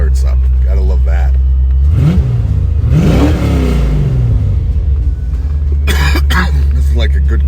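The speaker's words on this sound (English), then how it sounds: "This is like a good cold rev to start the day." A 1985 car's engine revving on a cold start, loud and close with a steady idle under rising and falling throttle blips, as people talk over it.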